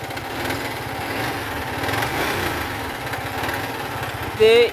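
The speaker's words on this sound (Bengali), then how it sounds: "বাইকটা আমি স্টার্ট মারে আপনাদেরকে আওয়াজটা আগে দেখাচ্ছি" A Yamaha R15 V4 motorcycle engine with a noisy timing tensioner runs steadily nearby, a continuous rapid mechanical clatter and hum throughout, ending with a brief loud burst.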